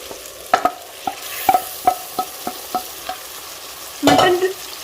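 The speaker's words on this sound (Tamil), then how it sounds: "முதல்ல ஒரு 5 நிமிஷம் எண்ணெயிலே புரட்டி விட்டுறலாம்" Mutton seasoned with biryani masala and a little turmeric frying in oil, with a steady sizzle under repeated sharp scraping strokes of a spoon and a louder burst of sizzling near the end.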